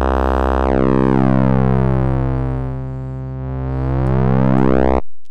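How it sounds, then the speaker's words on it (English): A buzzy synthesizer tone built from two multiplied saw waves, its harmonics sweeping down, then gliding back up before cutting off abruptly. "it's a saw wave multiplying with a saw wave by changing the start point of the sound itself"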